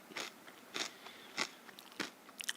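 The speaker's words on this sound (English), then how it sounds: "The Mexican style chips, the kettle ones that are hard and crunchy" Thick, hard Mexican-style kettle chips crunch between the teeth in close, loud bites, about five sharp crunches at a steady rhythm with quieter chewing in between and no talk.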